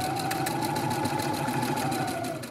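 A sewing machine runs continuously while stitching the top seam of a cloth face mask around a curve, a close, steady mechanical whir with rapid needle ticking throughout.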